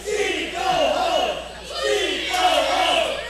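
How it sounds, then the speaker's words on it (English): A wrestling show crowd chanting "Steve, go home" in unison, rhythmic rising and falling group voices repeating the chant twice, filling the arena. "Crowd chanting, Steve, go home. They're chanting."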